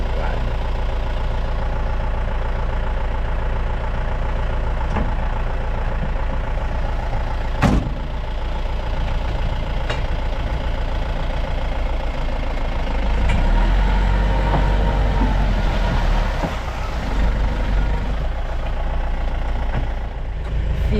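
Safari vehicle stuck in mud on a Sri Lanka safari, its engine rumbling loud and continuous with low throbbing revs that swell midway as it strains to move, plus occasional knocks.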